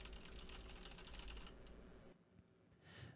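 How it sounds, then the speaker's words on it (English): A mouse and keyboard being smashed, picked up by a Samson Q2U USB microphone without processing: rapid, dense clattering key strikes and clicks up close, thinning out into scattered taps toward the end. "I'm smashing my mouse and keyboard"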